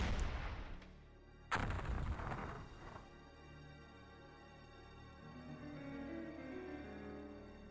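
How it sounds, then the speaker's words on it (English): Mortar barrage in the video game X-Com Files: two heavy booming impacts with long rumbling decays, the second louder, then fading into a low sustained hum of game ambience. "Mortar number 2, that's your target. Fire for effect."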